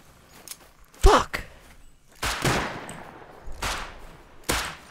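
Gunshots in the video game Rust: a few sharp, spaced bursts with quieter thuds between them, close and loud, with someone talking at times.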